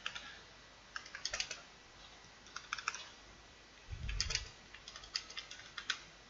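Keys on a computer keyboard clack in quick irregular bursts and short runs, fairly close and crisp, with one brief low thump partway through; no voices.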